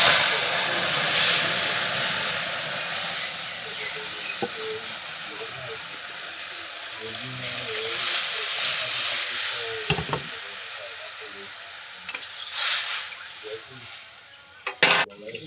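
Spices sizzle in hot oil while dal is tempered in a home kitchen, a loud steady hiss that gradually eases, with a few sharp clinks and stirring knocks near the end.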